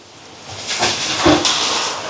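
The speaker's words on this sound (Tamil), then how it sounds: "இப்போ குழம்பு கொதிக்குது முதலாம் பாலையும் சேர்க்குறேன்" Steady hissing bubble and steam of a pot of curry simmering on the stove, with a brief louder burble midway, no talking.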